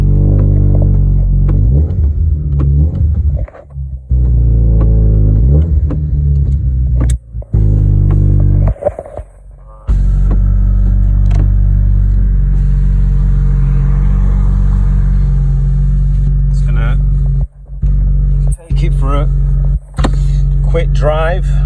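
A Vauxhall Astra J VXR engine runs close by with a loud, steady, low idle hum and throb, broken by a few short clicks and knocks.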